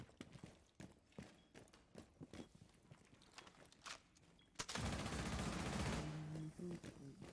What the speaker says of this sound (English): I really hate how this is basically a fucking machine pistol